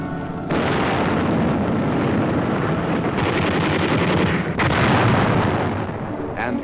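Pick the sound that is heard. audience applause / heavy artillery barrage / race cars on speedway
heavy artillery barrage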